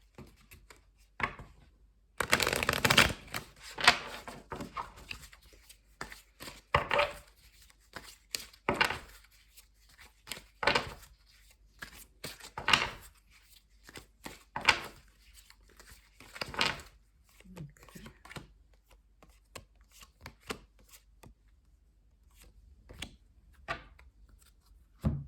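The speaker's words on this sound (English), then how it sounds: "I'm going to pull some cards from the Hidden Truth Tarot for you" Tarot cards from the Hidden Truth Tarot deck shuffled by hand in repeated quick riffles and slides, close and fairly quiet, spread in uneven bursts with pauses between.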